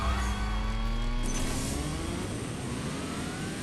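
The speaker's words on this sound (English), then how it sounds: "let's race this Lamborghini" A Lamborghini race car engine in the racing game CSR2 roars steadily and loudly, a rising engine note with a gear change early on, continuous throughout with no talk.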